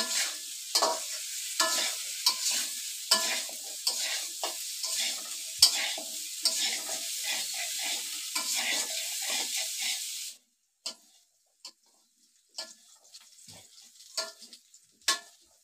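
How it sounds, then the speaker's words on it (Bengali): Potatoes and taro frying together in a wok of fish-frying oil, stirred with repeated rhythmic scrapes over steady sizzling; the hiss stops abruptly partway, leaving scattered spatters and clinks. "আলু কচু একসাথে একটু ভালোভাবে ভাজানো"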